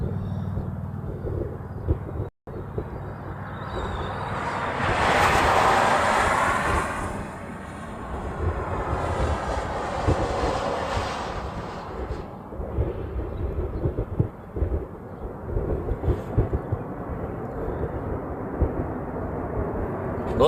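A FedEx Boeing 777 taxis at an airport, a broad, distant jet roar that swells and then settles into a steady rumble lasting several seconds, with faint talk nearby.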